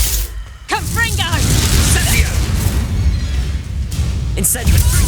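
A Confringo explosive spell goes off in Hogwarts Legacy, a heavy booming blast with rumbling bursts, loud and close, layered under a shouting voice and game effects.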